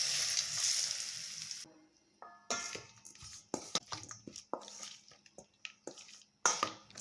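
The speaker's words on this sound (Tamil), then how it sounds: "நம்ம எடுத்து வச்சுருந்த காஞ்ச மிளகாயை சேர்த்துட்டு கூடவே 1/4 ஸ்பூன் பெருங்காயமும் சேர்த்து நல்லா வறுத்துக்கலாம்" Dried red chillies and a quarter spoon of asafoetida sizzle in hot oil as a tempering for instant mango pickle, a soft crackle followed by scattered pops and spatters, faint and close.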